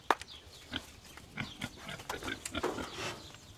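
American Guinea Hog pigs grunt and snort close by while being loaded into a trailer on a homestead, a string of short, uneven grunts over a faint outdoor background.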